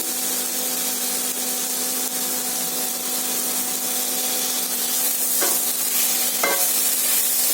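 Ridged gourd frying in a pan, a constant dense sizzle with a faint steady hum beneath and two sharp scraping clinks of a spatula near the end, no voices.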